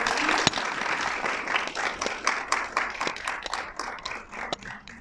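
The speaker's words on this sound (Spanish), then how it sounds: "Un aplauso, por favor, a la psicóloga" Audience applause for a psychologist at a violence-origins workshop at the Universidad de Guadalajara in Puerto Vallarta, steady dense clapping with sharper individual claps standing out throughout.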